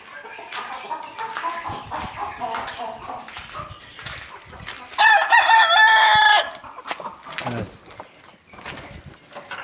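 Hens cluck and chatter nearby in a chicken coop while a rooster gives a loud, drawn-out crow in the middle; people talk and other animal noises mix in.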